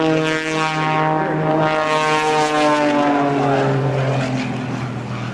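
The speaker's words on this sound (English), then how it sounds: "The aircraft, a high-tech composite material airplane built in Germany by Mr. Walter Extra for Michael Mancuso." Extra composite aerobatic airplane with a Lycoming engine flying at an airshow, a loud, droning propeller roar with strong harmonic tones that shift in pitch as it maneuvers, steady and close throughout.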